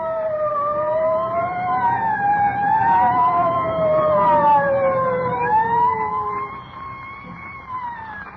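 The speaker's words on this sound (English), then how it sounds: "I don't like the sound of them sirens." Several sirens wail together, their pitches rising and falling and overlapping, loud and steady before easing off slightly toward the end.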